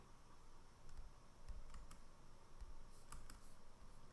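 Soft keyboard typing clicks while code is cut and pasted, scattered light keystrokes and a few quick bursts over a steady room hum, fairly faint and close, with no voices.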